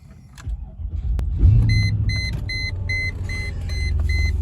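A car engine cranks briefly and catches, then settles into a low steady idle, with repeated electronic dashboard chimes pulsing over the rumble.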